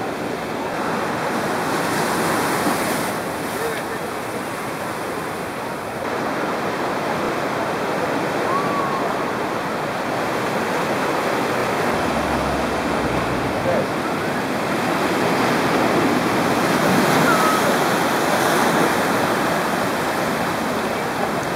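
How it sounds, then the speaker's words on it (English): Rough ocean surf at Acapulco, Mexico, a steady broad wash of breaking waves rolling continuously with gentle swells in loudness, fairly close and alone with no voices. "The ocean is there, a little bit rough."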